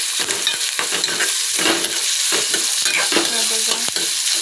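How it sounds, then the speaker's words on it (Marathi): Chopped onion sizzles loudly in a pan with garlic as a utensil stirs it, steady frying hiss with irregular scraping strokes close by, no voices. "आता आपण त्याच्यामध्ये कांदा टाकू. हा बघा आपण मिक्स करून घेऊ."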